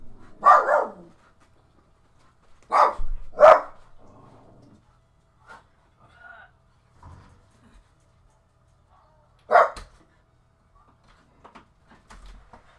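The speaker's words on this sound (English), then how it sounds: "Dogs are barking." A dog barks in several separate bursts, two or three loud barks at a time, with quiet pauses and small knocks between them.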